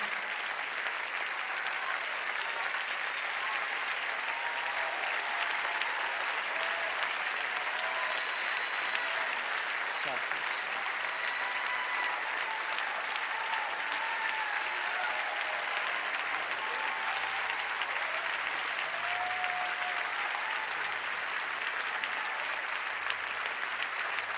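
Church congregation clapping steadily and continuously throughout, a dense sustained wash of applause with faint crowd murmur and occasional voices blended in.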